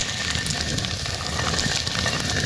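Dal being ground by hand in a stone mill during Diwali preparations gives a steady, rough, continuous grinding rumble with gritty scraping, close and unbroken throughout, with no talking.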